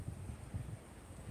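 Gust of wind buffeting the microphone outdoors near the sea, a low rumbling rush with uneven thumps, faint and steady through the moment.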